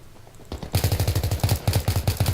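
Rapid pistol gunfire in Battlefield 3: a quick run of close, loud shots in an uneven rhythm, fired in bursts after a short quiet start.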